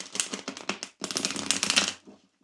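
Tarot cards shuffled by hand close to a candle flame, heard as quick papery riffling bursts in two short runs, near and fairly soft, with a brief pause between them.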